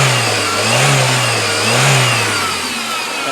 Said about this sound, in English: See if I can figure out how to rev it up for you.